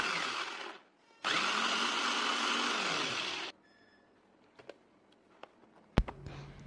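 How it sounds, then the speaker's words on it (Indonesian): A blender whirs loudly for about two seconds, crushing Oreo cookies with small boxes of milk until smooth. Its motor starts and stops abruptly, followed by a few quiet clicks and knocks. "blender semua jadi satu sampai halus"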